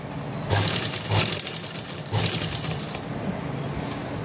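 A sewing machine stitching a coat collar, running in short bursts with a rapid mechanical clatter, close and steady.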